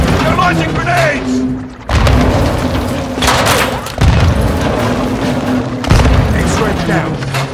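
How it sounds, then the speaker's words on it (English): Grenade explosions in Call of Duty Modern Warfare 2 hit as loud, heavy booms in a repeated series over continuous rumbling battle noise and scattered gunfire, with shouting voices in the mix. "Incoming! Take cover! They're launching grenades!"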